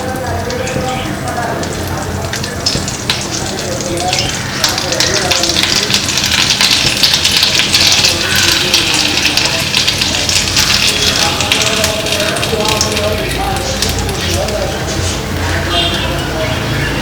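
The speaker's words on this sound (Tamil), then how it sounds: "பட்டர் நல்லா மெல்ட் ஆனோடனே நம்ம வச்சிருக்க சிக்கனை இதுல போட்டுடலாம்" Chicken pieces going into melted butter in a pan give a loud, steady sizzle close by, a dense hiss like heavy rain that runs throughout, with a voice talking over it.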